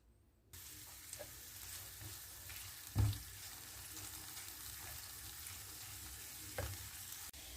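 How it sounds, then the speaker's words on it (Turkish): Soft, quiet sizzling of red and green peppers frying in two tablespoons of oil in a pan, with a brief clatter of utensils near the middle and another knock later on. "tavamıza 2 yemek kaşığı sıvı yağ alıp içerisine doğramış olduğumuz 1 adet kapya biberi ve yeşil biberi ekleyip"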